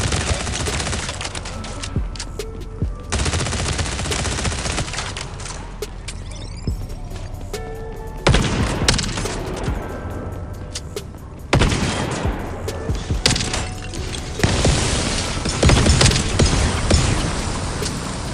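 Gunfire rattles through a Division Resurgence firefight, with rapid automatic bursts arriving in loud sustained stretches that break off into short lulls and then resume, together with game sound effects.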